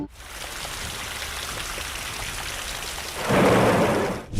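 Heavy rain pours at night in a steady loud hiss, swelling into a louder rumbling burst near the end, like a thunder roll, with no voices.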